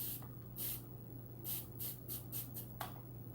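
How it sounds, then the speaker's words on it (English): A spray bottle mists water onto hair during detangling in several quick, soft hissing bursts, some single and some in fast succession, close and fairly quiet over a low steady hum. "And I love this spray bottle. It's a light mist."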